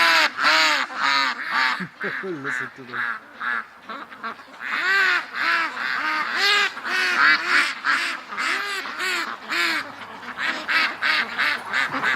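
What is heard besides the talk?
ducks quacking in the yard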